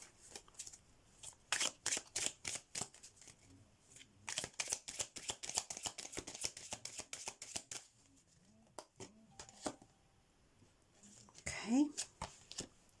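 Oracle cards shuffled by hand in a tarot reading, a rapid run of crisp riffling flicks in bursts with short pauses, close and clear, ending in a softer rustle.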